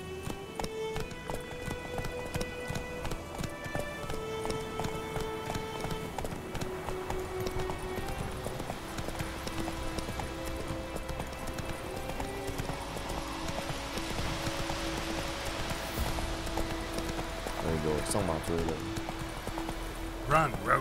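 Hooves of Roach, the horse in The Witcher 3, clip-clop at a steady galloping rhythm, mixed under sustained game music with a faint voice at times.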